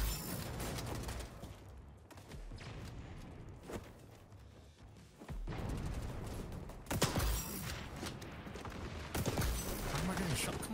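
Gunfire in the online shooter XDefiant, scattered bursts of shots at moderate distance under the constant hum of game music and effects, with some louder cracks later on.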